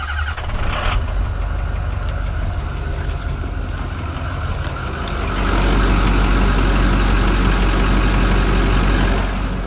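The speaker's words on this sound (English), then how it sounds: "I'm gonna fire this truck up." A material delivery truck engine after cylinder head replacement cranks and fires, then settles into a loud, steady, rough idle with a rising rumble about halfway through, no talking.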